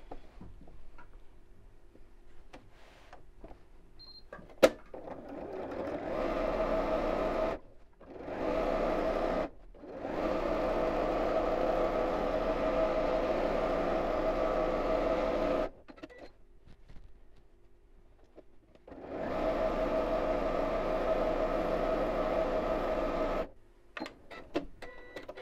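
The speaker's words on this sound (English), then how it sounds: "Then just like before, I'll sew around the pot." A sewing machine free-motion stitches a fabric Christmas tree with sparkly fibres, running in several steady, close bursts of rapid whirring and ticking separated by short pauses.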